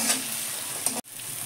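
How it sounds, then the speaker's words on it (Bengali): Onion and tomato fry in a pan with a soft, steady sizzle, close and fairly quiet, broken by a brief clink and a momentary cut near the end. "পেঁয়াজটা টমেটোটা আমি ভেজে নেব"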